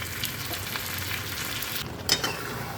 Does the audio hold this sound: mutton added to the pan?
yes